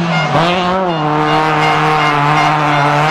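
A Citroën C2 rally car on a rally stage, its engine holding a steady high-revving note with a brief dip and tyre squeal early on, loud and close throughout, with no talk.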